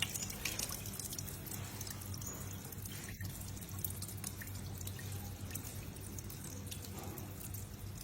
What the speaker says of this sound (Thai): อันนี้เราเทน้ำออกนะคะ